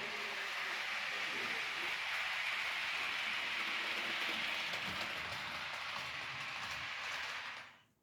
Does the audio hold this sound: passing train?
yes